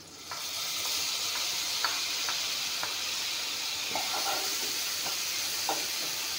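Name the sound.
frying garlic, chili and ginger paste in a pan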